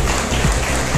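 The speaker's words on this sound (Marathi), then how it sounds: "जोरदार टाळ्यांचा गजर करायला पाहिजे" A crowd at a book-related ceremony breaks into loud, dense applause, a continuous close roar of clapping with no talk over it.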